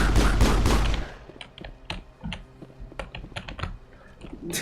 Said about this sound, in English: Weapons discharge.